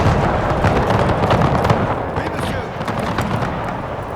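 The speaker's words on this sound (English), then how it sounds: "chasseurs shooting at them, fusiliers too" Massed musket volleys crackle through a Napoleonic battle in Napoleon: Total War, grenadiers, chasseurs and fusiliers firing in a dense, continuous roar of overlapping shots with a steady loud wash of battle noise.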